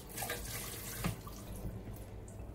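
Tap water runs steadily into a sink as a dish is rinsed after making lasagne, a soft continuous splash with a small clink partway through.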